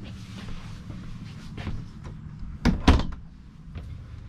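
A couple of wooden knocks and a sliding thunk as a small drawer is pulled and pushed shut in a 2018 Lance 975 truck camper, close by in a quiet room.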